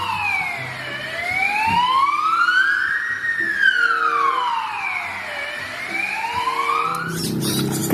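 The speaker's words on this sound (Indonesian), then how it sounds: "Wadidaw, ada mobil ambulan." A toy ambulance wails with a rising and falling electronic siren, two slow sweeps up and down, close and clear, ending in a short clatter.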